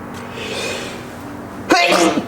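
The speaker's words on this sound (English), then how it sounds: "Jeez, sneeze." A single sharp sneeze bursts out near the end after a quiet stretch of faint background hum in a workshop where a 1996 Honda FourTrax 4x4 is being overhauled.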